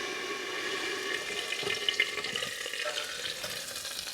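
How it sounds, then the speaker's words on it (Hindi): Steady, loud hissing sizzle of hot tempering oil poured into pumpkin dal, with bubbling and crackling that continues evenly throughout. "अब तड़के को उठा के हमें सीधा दाल में डाल देना है।"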